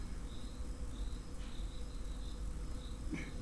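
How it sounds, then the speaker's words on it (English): Crickets chirp in short, evenly spaced high pulses over a steady low rumble of background noise, faint and continuous with no voices. "Crickets."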